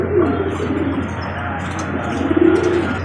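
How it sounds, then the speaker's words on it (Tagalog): Pet pigeons or doves coo steadily at close range while being fed, low repeated coos swelling in two clear bursts over a faint background hum. "Nagpapakain nga tayo ng mga ibon natin"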